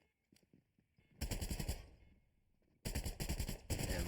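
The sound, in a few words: gunfire in the video game Fortnite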